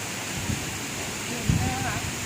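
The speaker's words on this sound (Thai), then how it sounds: "นี่หนูอยู่ที่น้ำตกอะไรเนี่ย อะ น้ำตกอะไร เจ็ดสาวน้อย" Jet Sao Noi waterfall in Thailand, a steady broadband rush of falling water filling the background at moderate level, with faint voices and a couple of soft bumps over it.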